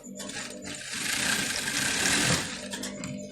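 A sewing machine stitches fabric while owoko is being sewn. It gives a fast, continuous mechanical whirr that swells in the middle of the run and stays close and fairly loud.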